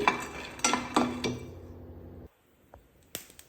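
Peanuts roasting in a pan with a spoon scraping and stirring: a few sharp metallic clinks and rattles, then near silence with one or two light taps.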